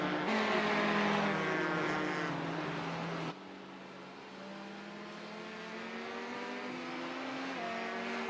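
Race car engine in the iRacing sim at Circuit of the Americas during a sportscar championship event, a steady high droning whine with rising and falling pitch as the car shifts through gears, holding loud throughout.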